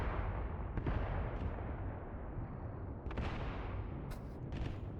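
Gunfire and artillery in the WWII strategy game Mius Front: a dense, continuous roar of distant battle with sharper shots and blasts breaking through near the start and in the last seconds, no voices.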